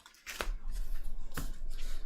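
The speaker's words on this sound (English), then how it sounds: "Each player shuffles all starter cards in their discard pile into their deck." Playing cards for a DC deck-building game being shuffled, two quick riffling bursts over a continuous close rustle.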